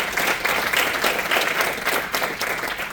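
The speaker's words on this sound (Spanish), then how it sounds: "Dale un fuerte aplauso al Rey de Reyes." Loud, sustained applause from a large church congregation during a sermon, dense clapping filling the whole stretch without a break.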